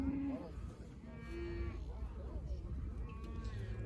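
Cattle mooing at a Kyzylorda livestock market, several drawn-out low calls close by over a busy outdoor din with people talking in the background.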